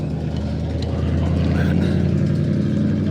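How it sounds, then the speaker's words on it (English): Loud neighbourhood cars rev nearby, a continuous low engine rumble with a mechanical drone holding steady throughout. "Everybody in this neighborhood has like loud cars."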